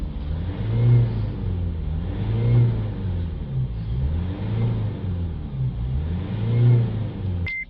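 A Honda 2.2 diesel engine with a blocked DPF runs steadily at a moderate idle, its low rumble swelling and easing in slow, repeated cycles, close by with no voices.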